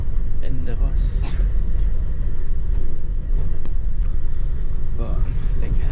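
Interior of a moving bus, a constant loud low rumble of engine and road noise with a person talking over it.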